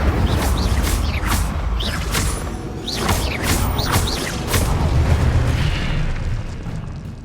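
A fire spell cast in Hogwarts Legacy, a continuous loud roaring whoosh with repeated bursts and crackles that swells and fades over several seconds, with no talking.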